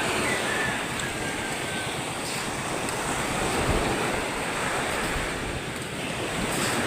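Heavy ocean surf crashing and rushing continuously, with wind buffeting the microphone and no voices.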